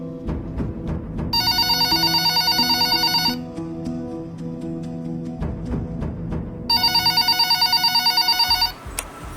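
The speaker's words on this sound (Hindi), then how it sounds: "अरे देखो किसका फोन आ रहा है भाई।" A phone rings twice in trilling electronic bursts, each lasting a couple of seconds, over steady background music.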